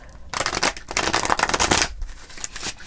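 Tarot cards are shuffled in a rapid, papery riffle lasting a couple of seconds, close and fairly loud, then a few softer flicks.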